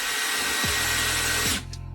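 A power drill whirs continuously at close range, drilling into wood, its pitch sagging briefly twice as it bites, then cutting off abruptly near the end.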